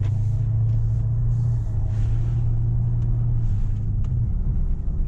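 Steady, loud low rumble of a 2017 Range Rover TDV8 Autobiography diesel V8 driving, heard from inside the cabin with a constant drone and faint rattles and clicks above it.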